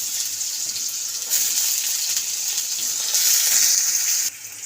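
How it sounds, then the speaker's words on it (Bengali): Potatoes hit hot oil already holding whole cumin and dried chilli, setting off a loud, close, steady hiss of frying that swells in waves and drops off abruptly at the end. "তো এবার গোটা জিরে দিলাম। তো গোটা জিরেটা একটু গরম হয়ে যায়, একটু ভাজা ভাজা গন্ধ বেরোচ্ছে। তো এই সময় আমি আলুটা দেব।"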